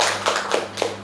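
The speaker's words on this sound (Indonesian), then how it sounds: "tepuk tangan untuk kita semua" A group of people clap together in a short burst of applause during an indoor school teachers' session, the claps dense and fairly close with no talking over them.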